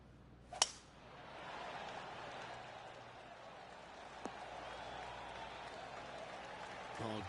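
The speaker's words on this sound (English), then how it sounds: "Oh, golf clap." Soft, scattered golf clapping from a distant crowd in the video game PGA TOUR 2K23, a polite patter under a low background hum, with a sharp click near the start.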